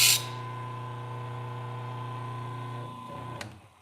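A chainsaw-chain grinding machine runs with a steady, close electric motor hum and strong low tones, holding even for several seconds before tapering near the end.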